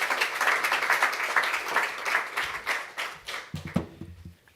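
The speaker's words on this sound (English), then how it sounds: "Let's give a round of applause for that." Audience applause after a talk on AI, big data and policy: a moderate crowd claps steadily, then the clapping thins and fades into a few scattered claps and taps near the end.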